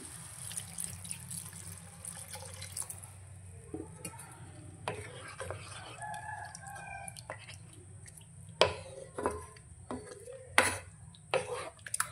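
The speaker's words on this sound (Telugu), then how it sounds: "వాటర్ వేస్తున్నాను." Water is poured into a hot pan of egg and cashew gravy, setting off a gush and sizzle over a low steady hum. Scattered stirring clinks and scrapes follow, loudest in a few sharp knocks near the end.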